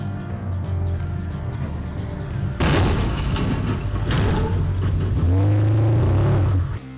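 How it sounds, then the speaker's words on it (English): A pickup truck roars down a residential street late at night under a steady engine drone, with loud broadband bursts as it scrapes along the side of a parked car; engine revving swells near the end. "A driver in a pickup came roaring down the street before scraping the side of Arseni's neighbor's car"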